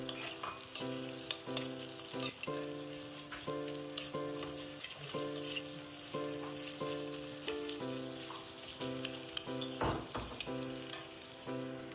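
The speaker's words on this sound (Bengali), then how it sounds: "এখন তেলের মধ্যে আমি পেঁয়াজ কুচি দিয়ে দিচ্ছি। পেঁয়াজ কুচিটাকে সামান্য একটু ভাজা ভাজা করে নেব।" Chopped onion fries in hot oil in a pan while chili garlic noodles are being cooked, giving a steady close sizzle with stirring and a soft repeating tune underneath, without any speech.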